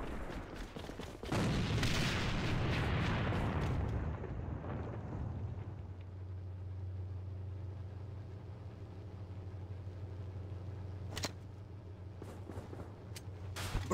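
A grenade goes off in a video game with a loud, close blast and a rolling rumble that decays over a few seconds into a low droning hum, followed later by a couple of sharp isolated shots.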